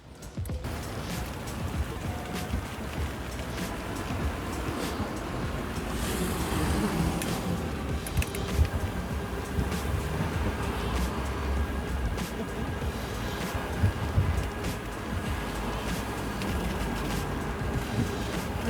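A DYU T1 folding electric bike, 2024 model with 20-inch wheels, runs on motor power alone without pedaling, giving a steady low whir mixed with rolling noise and gusty wind buffeting throughout.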